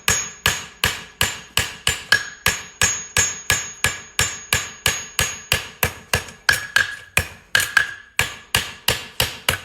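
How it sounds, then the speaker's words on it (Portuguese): A sledgehammer strikes a flat horseshoe on an anvil in a steady run of about thirty loud, ringing blows at a brisk, even pace, with no talk between strikes. "Agora eu vou bater com a marreta em diagonal, sempre com a ferradura plana na bigorna"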